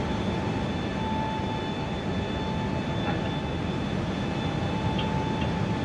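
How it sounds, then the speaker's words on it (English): Jetway moving up to an A321 in a realistic flight simulator: a loud, steady mechanical rumble and whine with a constant hum underneath, continuous and close throughout. "Here comes the jetway."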